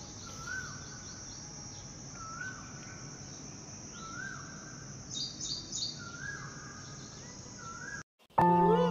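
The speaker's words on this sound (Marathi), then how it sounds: "छान असे पक्ष्यांचा किलबिलाट चालू झालेला आहे।" Morning birdsong outdoors, repeated chirps and short calls scattered over a steady insect-like hiss, moderately distant, with no talking, ending in a brief gap and a sudden loud burst.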